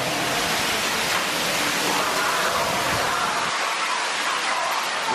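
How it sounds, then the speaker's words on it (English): Waterfall beside the Rise of the Resistance attraction at Disneyland, a steady broadband rush of falling water heard from nearby, continuous and fairly loud, with faint crowd murmur mixed in. "Look at how cool it is with the waterfall right out there."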